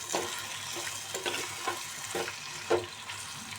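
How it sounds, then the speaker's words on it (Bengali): Spring onion greens and green chillies frying in a pan with garlic and onion, a soft, low sizzle broken by several rhythmic spatula scrapes and stirs. "পেঁয়াজ পাতা, কাঁচামরিচ, ওগুলো ভালো করে ফ্রাই করে নেব"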